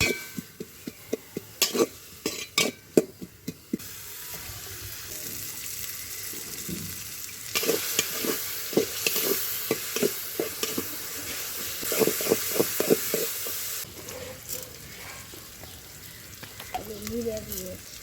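Onion frying in a pan for a hilsa fish dish makes a hiss under repeated sharp clicks and clatter of stirring, with some running-water-like wash sounds and brief speech.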